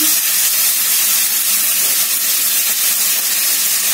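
Katla fish curry frying with vegetable stalks and salt gives a loud, unbroken sizzling hiss from the hot pan, close and steady throughout, with no voices.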